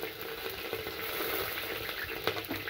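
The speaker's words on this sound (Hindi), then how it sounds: "अब हमारा तेल गर्म हो चुका है, सबसे पहले हम इसमें जीरा और हरी मिर्च डालेंगे।" Cumin seeds and green chillies crackle and sizzle in hot oil, a busy, steady spitting texture with small pops scattered throughout, close and fairly quiet, with no talking.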